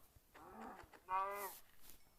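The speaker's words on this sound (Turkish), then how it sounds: "bayağı inek varmış ha" Minecraft cow lowing twice in quick succession, two short nasal moos with the second louder, faint and alone against a quiet game background.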